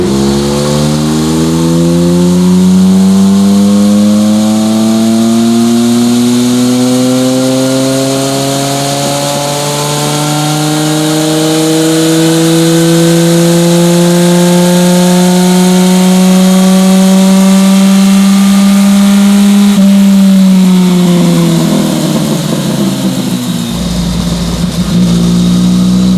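Tuned car engine on a dyno during a full-throttle pull, very loud and close, rising steadily in pitch over about twenty seconds before dropping off as the run ends.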